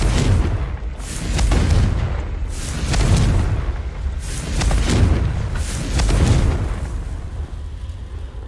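Confringo blasting curse explosions in the Hogwarts Legacy video game, a series of deep, loud booms rolling in roughly every second or two, each swelling and fading, close with no talking.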